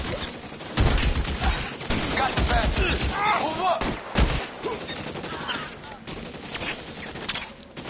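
Loud gunfire in an L.A. Noire shootout: bursts of rapid shots and sharp cracks come in clusters, near and heavy, with shouted game dialogue partly mixed in.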